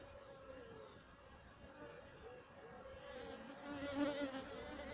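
Honeybees buzz around an open hive during an inspection in Jamaica, a steady close droning hum with wavering pitch that swells louder toward the end.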